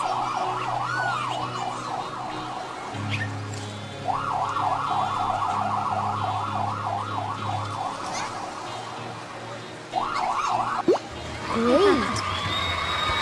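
A wailing ambulance siren from a children's safety video game rises and falls repeatedly, pausing briefly, then returns before ending with a short electronic chirp over a low engine drone.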